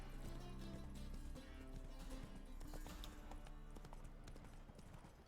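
Horse hooves clip-clop at a gallop during mounted combat in The Witcher 3, a steady quiet hoofbeat rhythm over a dense game soundscape with no voices.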